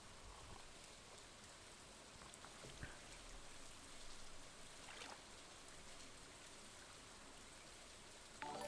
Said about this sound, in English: The sound of the rain in this game.